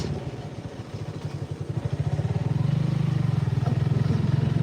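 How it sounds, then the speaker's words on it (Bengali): A motorcycle engine putters nearby with a rhythmic mid-pitched throb that builds into a steadier, louder drone as the ride gets under way, part of a group riding out on about ten bikes. "বাইক নিয়ে তো আমরা রাইডিং করি"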